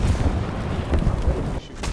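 Dense gunfire from the War Thunder combat video game, heavy booming shots piling into one loud, continuous rumble that cuts out near the end.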